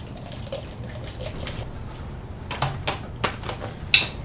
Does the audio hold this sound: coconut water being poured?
yes